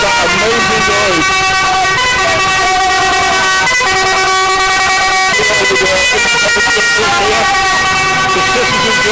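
A tractor at a farmers' protest blasts a loud, continuous musical horn over its engine, the tune running through the whole stretch with no pause, while other horns and voices fill the crowded street.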